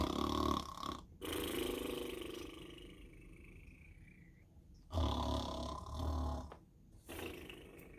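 A voice imitates snoring in a children's storytelling setting: two long, rasping, breathy snores a few seconds apart, close and fairly loud, each followed by a quieter exhale.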